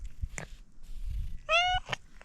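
Two short cat meows, a brief one early and a clearer drawn-out one near the end, heard close up in a quiet outdoor village setting in Azerbaijan with faint low rumble beneath.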